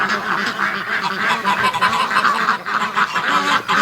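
Ducks and geese at a farm honk and quack loudly and continuously, many birds calling at once close by in a busy, overlapping chorus.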